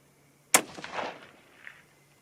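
One close, sharp crack from a Seekins Precision Havak rifle firing a 120-grain ELD-M load, followed by a rolling echo that fades over about a second and a half outdoors.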